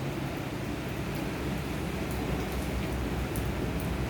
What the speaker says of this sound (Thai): เป็นวันที่ฝนตก